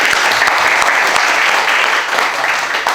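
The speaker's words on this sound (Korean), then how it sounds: "다 같이 잘하자는 박수 치고 해주십시오" A school audience claps in a loud, continuous wave of applause close by, with no speech over it.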